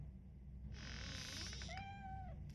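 A cat in Robocop Rogue City gives one drawn-out meow that rises and then falls, close and clear over a low background rumble with no talk.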